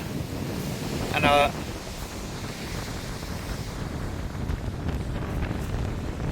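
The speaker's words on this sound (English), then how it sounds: "The wind is howling" Strong wind buffeting the microphone on Chesil Beach, with waves and surf rumbling underneath as a loud, continuous roar, plus a brief higher whine near the start.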